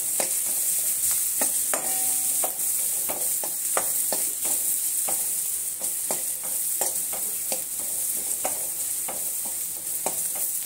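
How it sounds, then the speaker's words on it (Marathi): Asafoetida and turmeric sautéing in hot oil, a steady close sizzle broken by frequent sharp spoon-and-pan clicks as the spices are stirred, with no voices. "हिंग आणि हळद टाकलेली आहे ते आपण परतून घेऊया"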